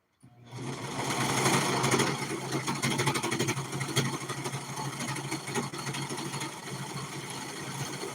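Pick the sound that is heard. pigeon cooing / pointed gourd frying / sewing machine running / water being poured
sewing machine running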